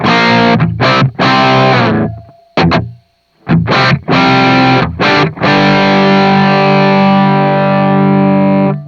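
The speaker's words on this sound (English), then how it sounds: "Take that reverb off so we can hear what that sounds like." Loud, close overdriven electric guitar through a Jared James Nichols signature Blackstar amp head with the reverb switched off: several short punchy chord hits with dry gaps, then one long ringing chord sustaining and slowly fading.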